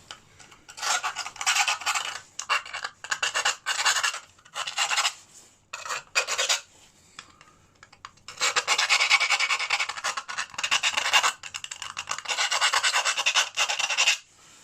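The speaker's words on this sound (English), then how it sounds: "A bit rusty this, I haven't used it for a long while, this rasp" A rusty hand rasp files a metal char tin in repeated bursts of harsh rasping strokes, some short and choppy, then longer sustained passes, close and loud, with no talking.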